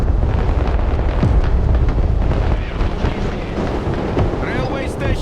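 Explosions from the military strategy video game Broken Arrow roll together into a loud, continuous, dense rumble and crackle filling the whole stretch, with no clear gaps.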